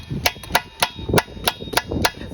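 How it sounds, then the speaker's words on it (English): A hammer strikes the stuck piston of a Briggs flathead engine from a Craftsman push mower again and again, about eight sharp metallic blows in an uneven rhythm, loud and close. "So we're just gonna hammer this piston"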